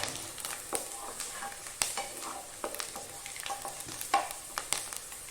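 Soya chunks frying with onions and four dried red chillies in a pan, a soft sizzle punctuated by repeated clinks and scrapes of a spoon stirring.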